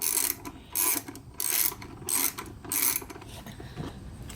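Bolts being removed from a Yamaha Virago carburetor with a ratchet, giving five evenly spaced bursts of quick clicking close up, each about a third of a second long with short pauses between.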